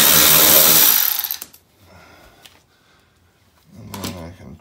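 Power tool removing a bolt from a 2017 Toyota Corolla iM while fitting mud flaps, a loud whirring burst that cuts off abruptly, followed by quieter handling and a short second burst, all close up.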